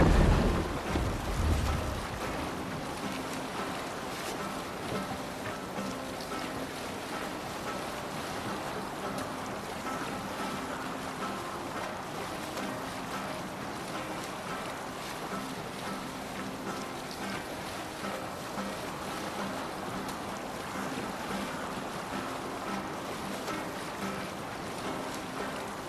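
Boat being rowed out to sea in Assassin's Creed Valhalla, a steady wash of water and waves with soft, continuous splashing, quiet and unbroken for the whole stretch without any talk.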